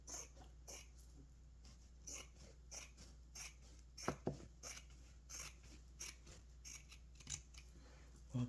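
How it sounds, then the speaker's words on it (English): Scissors snip along the edges of fabric being trimmed for a sewn scrunchie, a series of quiet, separate crisp cuts spaced irregularly in a hushed room with a low steady hum. "we're gonna cut some of the edges off"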